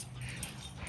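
Puppies whimpering faintly indoors, a quiet, brief whine close by against low room noise.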